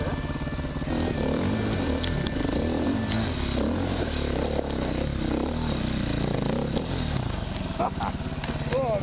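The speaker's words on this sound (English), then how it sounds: "I got to have a ride of Russell's 501 Husky" A Husqvarna 501 enduro motorcycle runs steadily throughout, its engine droning and revving close by on a rough mountain trail, with someone talking over it and brief clatters from the bike.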